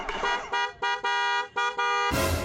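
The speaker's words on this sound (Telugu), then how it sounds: "ఆటో వాడు హారన్ కొడుతున్నట్టున్నాడు" Auto rickshaw horn honking in a series of loud, harmonic toots, about five blasts of varying length with short gaps, close by, ending in a burst of broadband noise.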